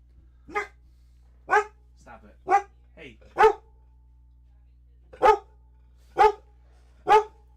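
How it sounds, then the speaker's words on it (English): A dog at home barks in several sharp, loud, close bursts spaced across the stretch, and a person briefly speaks to it between the barks. "My dog is attacking the ghosts in my house."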